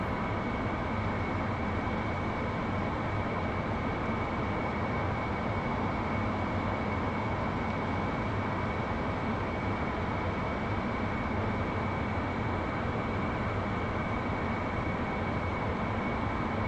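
A jet engine runs at half throttle in the DCS flight simulator, giving a steady, even roar with a sustained whine. It continues unchanged for the whole stretch with no talking.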